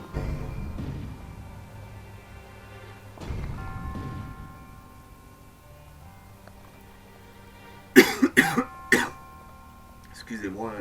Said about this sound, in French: Excusez-moi, la toux